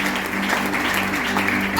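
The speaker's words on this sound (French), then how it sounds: "Est-ce qu'on peut acclamer le Seigneur?" A church congregation applauding and cheering for the Lord, a dense continuous wash of clapping and voices filling the room at full volume.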